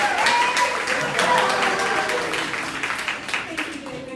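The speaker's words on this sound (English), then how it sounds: "So let's give her a big round of applause." Audience applause at a monthly Democratic county committee meeting, a moderately loud burst of many hands clapping that stays steady and then slowly thins out, heard from within the room.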